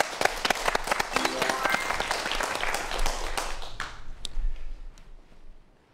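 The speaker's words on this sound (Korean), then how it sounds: "박수 부탁드립니다" An audience at a Korean science lecture on the third circulatory system claps to welcome a speaker, dense applause that gradually thins into a few final claps before fading to quiet.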